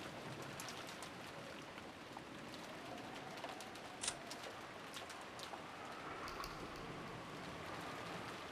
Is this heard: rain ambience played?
yes